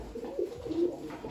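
Soft, low pigeon cooing from a female pigeon, a few throaty rolling coos repeating close by with no talking.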